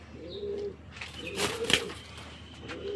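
A large blue bar pigeon gives soft low coos, a few short phrases near the mic, with a brief flutter or scuffle in the middle.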